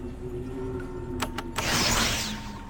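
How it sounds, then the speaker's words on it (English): A garbage truck works outside a window, heard from indoors as a steady mechanical rumble. Two quick clanks are followed by a loud, broad hissing surge that swells and then eases off. "there's a garbage truck outside my window"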